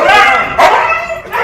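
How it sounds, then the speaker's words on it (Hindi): Several Siberian husky pet dogs bark, yip and whine excitedly in welcome of their owner, a loud, close, overlapping chorus of short barks and whimpers. "सभी डॉग अपने मालिक के स्वागत में आवाजें निकालने लगते हैं"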